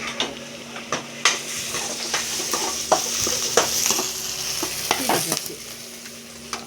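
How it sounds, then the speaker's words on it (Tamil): Biryani spices crackle and sizzle in hot oil in a large kadai with scattered sharp pops, while a spoon or spatula scrapes and stirs against the metal pan. "அது எல்லாத்தையும் எண்ணெயில் போட்டு தாளிக்கணும்."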